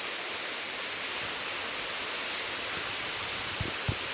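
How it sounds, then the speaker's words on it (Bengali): Heavy rain pours as a constant dense hiss, with a couple of faint low thumps near the end. "দেখো খুব জোরে বৃষ্টি হচ্ছে"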